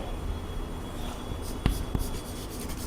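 Writing during a maths lesson: a soft, continuous scratching of the writing tool, with two sharp taps near the middle and a low room hum underneath.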